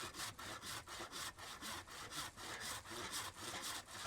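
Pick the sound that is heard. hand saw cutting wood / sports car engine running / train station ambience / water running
hand saw cutting wood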